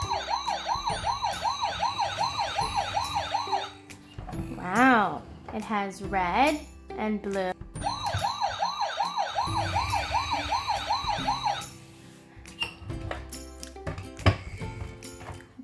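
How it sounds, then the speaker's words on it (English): Toy police car siren wailing in a rapid repeating electronic up-down pattern, stopping partway while a voice speaks, then resuming and cutting off again, with talk over the end. "Let's take a look at what this toy police car sounds like"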